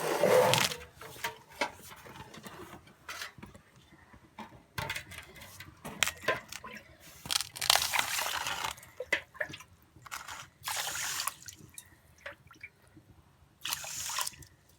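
Gobindobhog rice is washed by hand in water, making intermittent bursts of swishing, splashing and trickling with short quiet gaps between.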